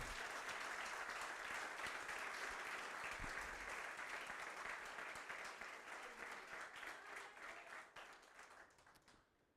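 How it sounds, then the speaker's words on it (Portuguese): A church congregation applauds in praise of the Lord, a steady, full roar of many hands clapping that holds for several seconds, then gradually tapers and dies away at the very end. "Vamos aplaudir ao Senhor"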